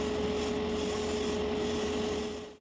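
A Gaahleri Mobius TG 0.5mm airbrush sprays clear coat over carbon decals, a continuous airy hiss that holds steady and then cuts off at the very end.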